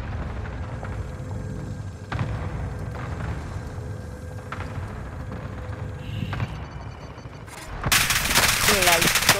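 Gunfire in Call of Duty: Modern Warfare crackles as rapid, repeated bursts from automatic weapons over ongoing battle noise, rising louder and denser toward the end.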